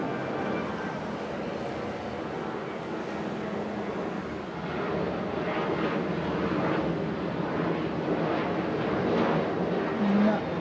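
A commercial or military airplane departing from Okinawa airport, a steady distant jet roar that swells slightly, with someone talking over it.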